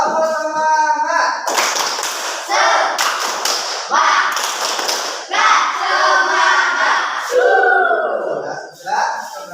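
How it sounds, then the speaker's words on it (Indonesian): Classroom of students doing a rhythmic group clapping chant, repeated unison clap patterns with chanting voices and a teacher's voice, loud and close. "Ya, tepuk semangat"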